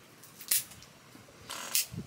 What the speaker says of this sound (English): I'm gonna cut that with my V cutter